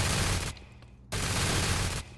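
Automated turret gunfire from the game F.E.A.R. Extraction Point comes in two loud, rapid bursts with a short quieter gap between them.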